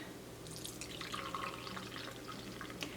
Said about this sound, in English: I'm going to go ahead and pour it inside of my little dish here